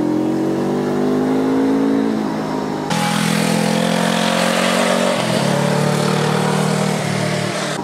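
A Honda CL500 twin engine pulls hard in second gear along a winding mountain pass, a loud, steady rev that climbs, drops briefly and surges again, close and continuous with rushing wind and no speech.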